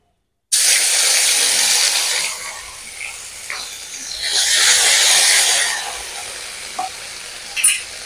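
Ginger paste hits hot oil with whole cardamom, cloves, cinnamon and cumin seeds, bursting into a loud, bright sizzle that eases, then swells again, with a few small pops and spatters.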